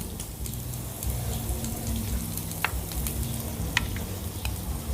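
Pork sizzles and crackles steadily on a hot tabletop grill, with occasional sharp pops and a low background hum of a busy room.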